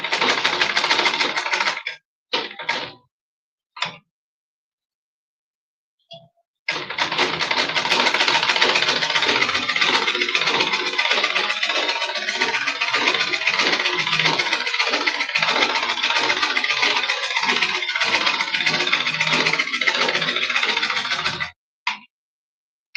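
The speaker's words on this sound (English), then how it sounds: "I'm going to be stitching it down all the way to this end" A sewing machine stitching fabric for a pencil skirt, with a few short bursts and stops at first, then a long, close, steady whirring run of about fifteen seconds before it halts.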